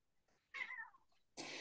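A kitten gives two short meows, the first a wavering mid-pitched cry and the second a brief, sharper call, both close and clear against near silence.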